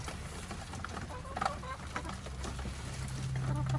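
Brahma chickens cluck softly in a backyard coop, a few faint, brief calls rising over steady low background rumble.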